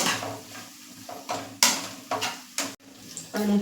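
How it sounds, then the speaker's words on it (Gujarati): Pasta is stirred with an added paste in a pan, a spoon scraping and knocking against the metal in uneven strokes over a soft background sizzle, close and moderately loud. "અને આપણે જે આ પેસ્ટ બનાવી છે તે એડ કરી દઈશું અને બરાબર મિક્સ કરી લેશું"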